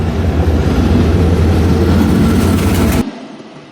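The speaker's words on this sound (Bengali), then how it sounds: "আর আমাদেরকে বসিয়ে থ্রু পাস করে যাচ্ছে মহানন্দা কমিউটার।" The Mohananda Commuter train passes through Fultala railway station at night, a loud, close, rumbling roar of carriages that ends abruptly as the last car clears.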